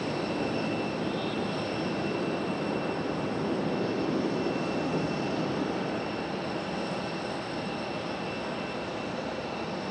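A JetBlue jet in Mint livery sits at the gate before pushback at Raleigh Durham airport, its engines giving a steady loud roar and high whine throughout.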